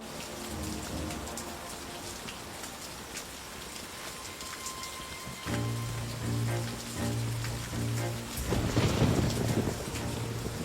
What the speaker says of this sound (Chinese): 风大雨急